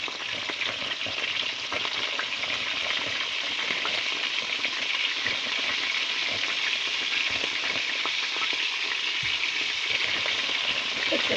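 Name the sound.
salt and pepper squid frying in a pan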